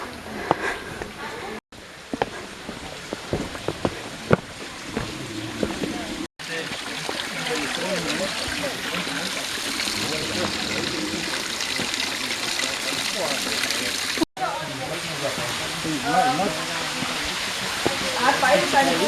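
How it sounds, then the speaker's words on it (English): Steady rushing water roars continuously from a nearby waterfall in Cyprus, with occasional faint voices and brief breaks. "I can actually hear the rush of water from the waterfall"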